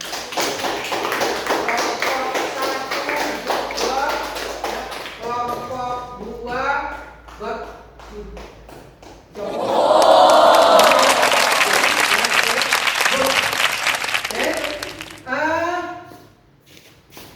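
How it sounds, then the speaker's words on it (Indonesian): A school class claps and applauds during a teaching session, with a loud, dense burst of clapping from the group in the middle, framed by a teacher's speech before and after. "Tepuk tangan semuanya"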